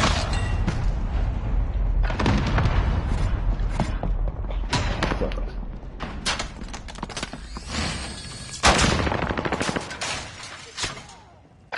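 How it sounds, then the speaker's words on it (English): Gunfire in a Call of Duty match comes from behind the player, with loud dense bursts and booms recurring across the clip amid busy game noise. "this dude's shooting me from behind"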